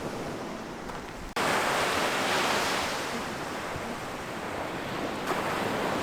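Steady wash of ocean surf rolling onto the shore at New Smyrna Beach, Florida, a broad continuous roar with light wind buffeting and no voices.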